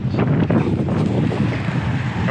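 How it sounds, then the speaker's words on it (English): Gusty wind blows along the road to Penzance in Cornwall, a loud, continuous buffeting rush with no one talking. "It's so windy again."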